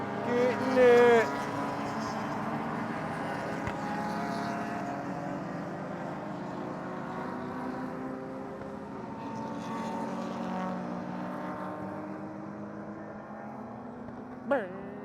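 Race cars lapping the Mid-Ohio track, a steady distant engine drone that swells and fades as cars pass, heard from afar.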